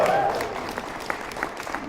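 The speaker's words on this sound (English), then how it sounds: "let's just have a big cheer for Leif Madsen" Conference keynote audience at AstriCon 2013 breaks into scattered applause with a few louder claps, brief and fairly dense, as a voice speaks briefly at the start.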